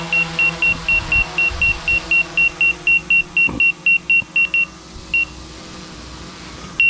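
Autel Evo 2 Pro drone obstacle sensor beeping near a wall and leaves outdoors, a rapid series of about twenty short high-pitched beeps that thin out and stop, over faint traffic rumble.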